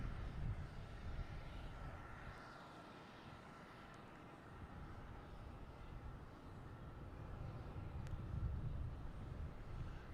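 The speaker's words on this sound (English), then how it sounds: "But now we have American Airlines coming in." An American Airlines airliner arrives at Boston Logan Airport, heard as a distant, low, steady jet roar that swells slightly toward the end, mixed with light wind.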